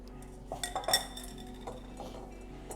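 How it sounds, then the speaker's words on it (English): Pyrex glass bowls knocking lightly against each other while baking carrot cake cupcakes: a few soft clinks and taps clustered near the start, then quieter scattered knocks, fairly close and subdued, with no talking. "I'm trying not to make too much noise with my Pyrex"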